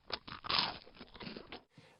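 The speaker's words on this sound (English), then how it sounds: "human actions like breathing and chewing" Close, crunchy chewing with a few distinct bites and crackles in quick succession, then a brief quiet tail.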